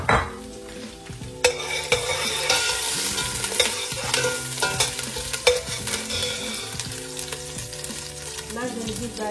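Shallots sizzle steadily in hot grapeseed oil in a pot with opened mussels, a dense crackling hiss punctuated by sharp clinks and scrapes of a stirring utensil.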